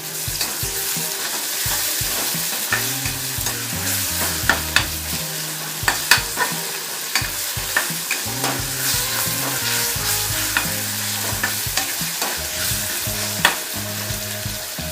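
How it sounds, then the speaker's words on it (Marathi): Green chili thecha sautés with onions in a pan, a constant sizzle broken by frequent scraping and tapping of a spatula, close and with no speech. "हा ठेचा ह्या कांद्यामध्ये छान परतवून घ्यायचा"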